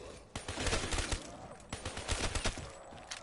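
Rapid bursts of MP40 submachine gun fire from a zombies video game, with dense, overlapping volleys running close and loud across the whole stretch.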